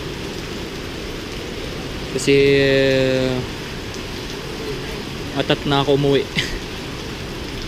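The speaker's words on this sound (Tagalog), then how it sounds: "lakas pa rin ng ulan" Heavy rain pours in a steady, dense hiss throughout, while a person talks over it.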